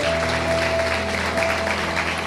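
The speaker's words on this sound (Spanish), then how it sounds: "Dale un fuerte aplauso al Rey de la Gloria." A church congregation applauds, a dense, continuous wash of clapping from many hands, with a sustained musical tone held faintly underneath.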